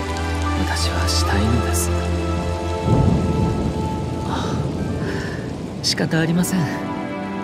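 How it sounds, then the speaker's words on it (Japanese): Rain pours steadily in the Genshin Impact teaser for Kamisato Ayato, a dense hiss with a low rumble, mixed under music and spoken dialogue. "雨宿りをしましょう。"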